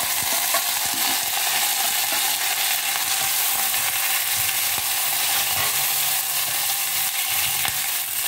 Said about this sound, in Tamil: கொஞ்சம் லைட்டாக வதங்கிக்கிட்டோம்.